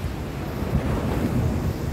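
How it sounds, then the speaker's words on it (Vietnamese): Surf breaks steadily along a beach by a rocky headland lined with coconut palms on a morning shore, with a cool wind rushing across the microphone in a continuous broadband wash and no voices. "bạn nghe gió mát rồi sóng biển đập rì rào"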